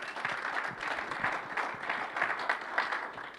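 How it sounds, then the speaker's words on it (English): Applause at a virtual conversation event, a soft continuous patter of many hands clapping at moderate level, steady for the whole stretch with no voices over it. "Give him a round of applause, please."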